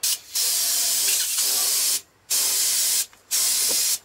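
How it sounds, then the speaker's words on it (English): Bursts of spray hissing from a paint gun painting model aircraft roundels, three long blasts separated by short pauses, close and loud. "we just need to set our spray"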